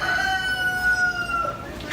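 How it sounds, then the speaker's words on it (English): Poultry at a county fair crow and cluck, a loud rooster crow drawn out over more than a second with clucking hens around it, close and clear amid a low crowd murmur. "These are the poultry chain birds."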